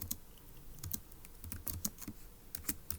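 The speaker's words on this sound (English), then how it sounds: "let's go ahead and type that up in our notes in section A" Fingers type notes on a computer keyboard in quick, uneven clusters of crisp clicks, close and fairly quiet, with brief pauses between bursts and no speech.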